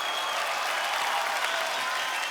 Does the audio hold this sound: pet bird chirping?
no